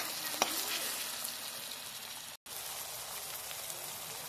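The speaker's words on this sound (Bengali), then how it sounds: "মাঝখানে দিয়ে দিলাম আদা রসুন বাটা। এটা একটু ভেজে নেব।" Onion, tomato and ginger garlic paste fry together in a pan, giving a continuous close sizzle with a faint stirring tap near the start and a brief dropout in the middle.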